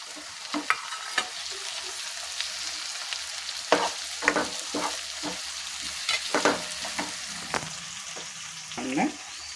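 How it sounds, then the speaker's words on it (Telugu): Curry leaves and tomatoes sizzle in a hot frying pan while making uggani, a steady frying hiss broken by frequent sharp clatters of stirring, close and fairly quiet. "దీంట్లో కొంచెం కరివేపాకు, టమాటాలు వేద్దాము"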